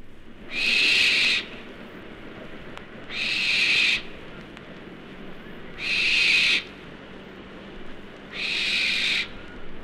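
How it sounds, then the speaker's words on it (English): A barn owl in open woodland gives four drawn-out, hissing screeches, each close to a second long, spaced about every two and a half seconds against a quiet background. "it may be possible to hear the eerie sound of a barn owl that's been roosting in a thorn or other bush"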